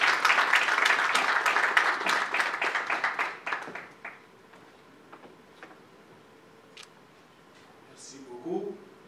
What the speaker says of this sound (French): Monsieur le DG, je vous prie, avec vos applaudissements.